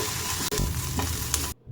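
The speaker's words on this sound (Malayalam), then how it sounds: "ഒരു മീഡിയം സൈസ് സവാള നുറുക്കിയത്, 1 പച്ചമുളകും കുറച്ച് കറിവേപ്പില നുറുക്കിയതും ചേർത്ത് ഒന്ന് വഴറ്റാം." Chopped medium onion, green chili and curry leaves sauté in coconut oil for a stuffed chapati filling, a constant near sizzle with a few stirring scrapes before it cuts off abruptly.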